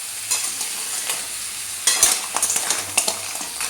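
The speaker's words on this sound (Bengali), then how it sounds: "হলুদ গুঁড়ো দেবো, দিয়ে কাঁকড়াগুলো খুব ভালো করে ভেজে নিতে হবে।" Sea crabs fry with turmeric in a pan, a steady oily sizzle broken by sharp scraping and clattering as a utensil stirs them, louder bursts of stirring in the second half, no talking.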